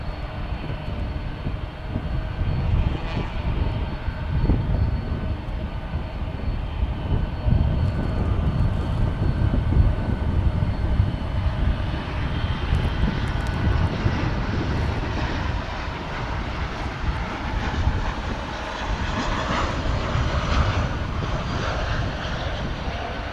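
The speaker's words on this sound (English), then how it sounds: "What an aircraft." A large jet airliner, a 747, rolls along a DFW runway with a steady, loud engine roar that swells and holds for over twenty seconds, alone without talk.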